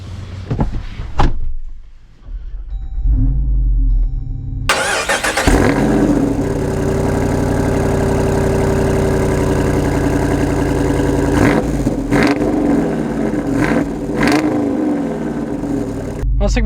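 A Jeep Wrangler with a Pentastar V6 cranks and starts after a door thuds shut, revving briefly before settling into a steady, loud idle that drones on, with a few clunks and a voice speaking over it.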